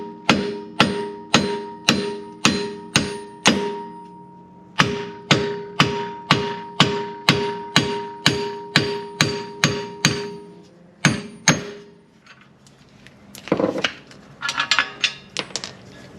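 Sharp metallic hammer blows knocking out wheel studs on a 2015 Subaru WRX, struck in steady rhythmic bursts of evenly spaced hits with brief pauses, followed by softer clattering handling noises near the end.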